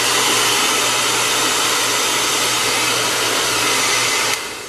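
A Lorion Beauty X6500 Pro Series hair dryer runs close and loud, a steady rushing blow of air with a constant motor whine, heard alone without talk.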